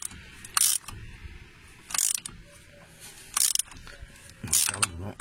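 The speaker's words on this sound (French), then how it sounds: "On resserre le boulon." Ratchet wrench tightening the driveshaft bolt on a Fiat gearbox, four short bursts of sharp clicking ratchet strokes close by, separated by quiet pauses.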